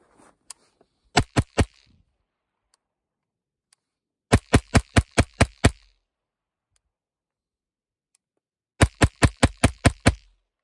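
AR9 rifle fitted with a Brinyte XP22 weapon light firing in three sharp groups, a few shots first and then two quick strings of about six rounds each, loud and crisp with silence between.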